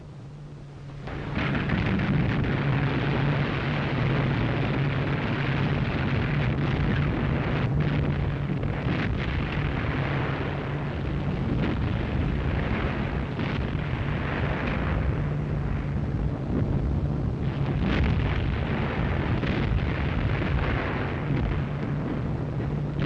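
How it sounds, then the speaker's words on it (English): Battleship Tirpitz guns firing and heavy bomb explosions during a 1944 attack in a Norwegian fjord, a dense continuous roar of blasts and rumbling booms with a low hum underneath, loud and unbroken throughout. "Through the billowing smoke, the Tirpitz opened up with every gun she had."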